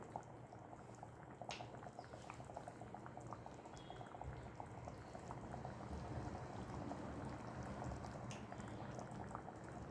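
A paneer vegetable curry with garam masala bubbles and boils steadily, a soft continuous blip and pop of thick liquid throughout, faint and close, with no voices.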